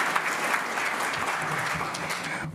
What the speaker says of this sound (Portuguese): E eu peço a todos uma salva de palmas a todas as marcas vencedoras da categoria Expressão.